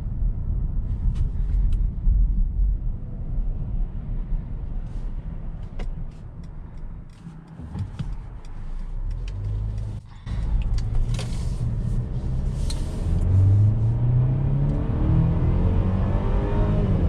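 A 2021 Mercedes-Benz GLC 300 driving at night, heard from inside as a low, steady cabin rumble of road and engine noise, with a brief dip before the engine swells again under acceleration.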